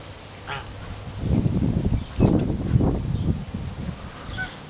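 Waterfowl honk and quack in a loose run of calls, fairly close and moderately loud, with a few overlapping bursts and no talking.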